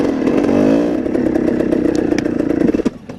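A dirt motorcycle engine revs and labours loud and close while climbing a steep trail, with a rough throbbing drone and rattling clatter throughout.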